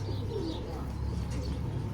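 Red brown-tailed pigeon in a loft cooing softly, low murmuring coos over a steady background hum, close by.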